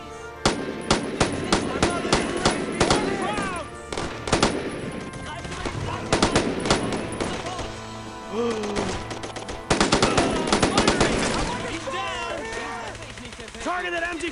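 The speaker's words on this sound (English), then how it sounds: "Target that MG-42!" MG-42 machine gun fire in the video game Brothers in Arms: Road to Hill 30 rattles in repeated loud bursts, mixed with other gunfire and battle noise, while voices shout in between.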